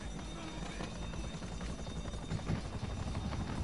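Helicopter in the video game GTA 5, a steady low rotor chop with whirring engine drone at moderate level, continuous throughout.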